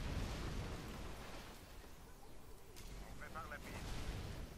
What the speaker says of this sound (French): il y a des obus partout qui pleuvent